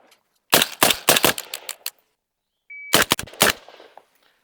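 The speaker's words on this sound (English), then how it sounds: "this footage is me getting used to shooting the Digi-Trigger" A gun fitted with a Digi-Trigger fires two rapid strings of sharp, loud shots, about eight and then five in quick succession, separated by a short silence, with no voices.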